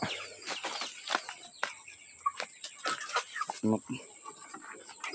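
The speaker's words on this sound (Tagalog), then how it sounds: "Tapos dito yung manok na 5 piraso na binili ko." Several chickens, five birds in a rural yard, cluck and call in short scattered bursts at close range, with occasional human voices and other farmyard noise mixed in.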